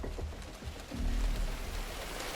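Steady rain falling in the video game The Division, a dense wash of hissing drops with a low rumbling undertone that swells partway through, continuous and enveloping with no voices.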